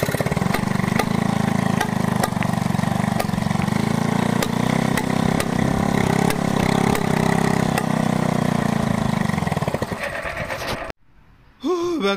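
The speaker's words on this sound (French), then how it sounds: "j'ai jamais réussi à la démarrer. Mais voilà, elle pétarade, hein." A Peugeot 103 moped engine sputters and pops in an uneven, rapid rhythm for several seconds as it struggles to catch, then abruptly cuts out and falls silent.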